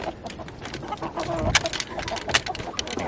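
Backyard chickens getting a bedtime snack of mealworms cluck in short, soft bursts close by, mixed with light rustling and pecking.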